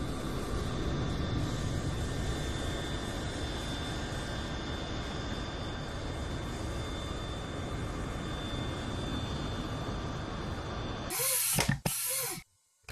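Aircraft coming in to land, a steady dense roar of engine and air noise held throughout before cutting off abruptly near the end.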